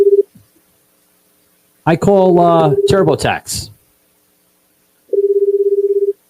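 A phone call rings out: a steady ringback tone sounds at the start and again near the end, with a short recorded voice speaking in the gap between the rings.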